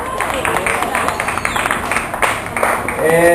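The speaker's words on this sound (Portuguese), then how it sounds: "Palmas para Camila, né, gente?" An audience at a university extension panel debate claps to welcome a coordinator to the table, a dense patter of hands under cheerful voices, fairly close and steady.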